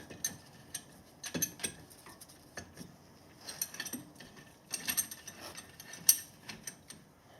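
A Toyota Camry front brake caliper piston is pushed back, with faint, irregular mechanical clicks and ratcheting ticks in short bursts close by in a quiet garage.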